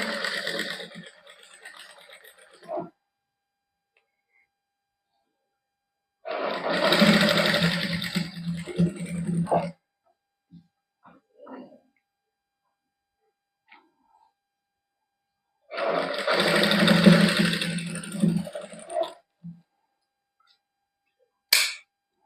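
Sewing machine stitching chikan-work fabric in three runs of steady whirring, separated by pauses with small clicks and faint handling noises, close and clear.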